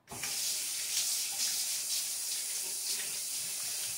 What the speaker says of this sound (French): Et maintenant, je rince mon linge.